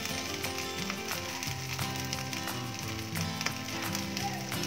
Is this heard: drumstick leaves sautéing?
yes